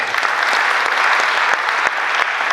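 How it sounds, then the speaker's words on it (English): Audience applause at a ceremony reading the citation and biography of a traditional ruler, a dense steady wash of many hands clapping throughout, loud and close with no talk over it. "Can you clap for that?"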